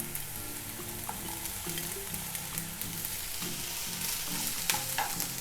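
Onions and red kapya peppers sizzle in oil in a pan for a vegetable noodle dish, with a continuous frying hiss and light scraping as they are stirred.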